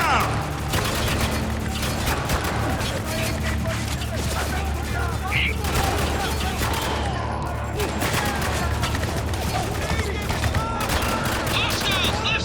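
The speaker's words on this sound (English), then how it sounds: "Keep shooting!" Continuous gunfire in the war shooter Spec Ops: The Line, with dense overlapping rifle fire and scattered single shots throughout. Soldiers shout under the fire.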